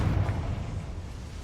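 A Confringo fire spell blast in Hogwarts Legacy, a loud, rumbling explosion with a heavy low boom that fades into a broad roaring wash.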